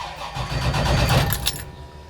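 A car engine cranks over on a newly fitted IMI Hi Torque starter, a brief rough whirring churn lasting about two seconds, close and moderately loud with no voices.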